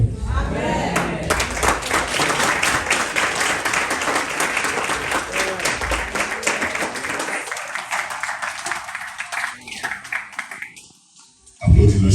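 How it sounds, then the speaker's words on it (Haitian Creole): A church congregation at an evening service applauds in a dense, sustained wash of clapping for several seconds. A voice is heard over the applause before the clapping thins out and drops away near the end. "Applaudis le Seigneur, frère"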